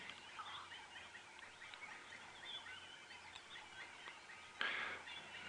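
Levaillant's cuckoo calling at sunrise in African bush, its repeated sharp notes mixed into a busy chorus of other birds, with a louder, nearer burst close to the end.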